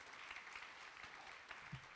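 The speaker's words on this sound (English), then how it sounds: "You shouldn't have clapped." An audience at a live comedy performance claps in a steady, even wash of applause, fairly faint and distant, with no talk over it.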